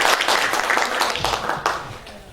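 An audience at a talent showcase in Gədəbəy breaks into brisk, dense applause, a short burst of clapping from the crowd with a faint voice briefly audible beneath it.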